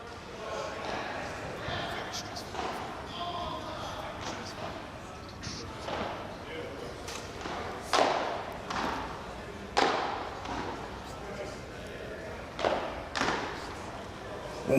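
Padel balls struck during a celebrity doubles match give several hollow thuds scattered through the rally, mid-distance and moderately loud, under steady commentary talk and crowd or court ambience.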